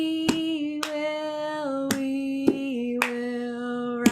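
Sharp lap slaps and hand claps in a well-known stomp-clap pattern, spaced at a steady pulse beneath a sustained sung or hummed voice during an online music session.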